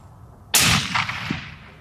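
A single sharp rifle shot from a Remington 700 chambered in 300 Win Mag, loud and close after a quiet lead-in, followed by a decaying outdoor echo.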